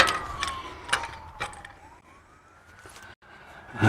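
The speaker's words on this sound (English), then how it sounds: "I can hear a police car going off." A distant police car siren wails, slowly falling and rising in pitch. It is faint under nearby knocks and handling noises outdoors.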